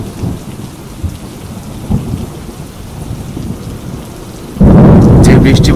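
Rain pours steadily under low rumbling thunder in a Bengali horror cartoon, then a loud, close thunderclap breaks in near the end with heavy rain hissing on.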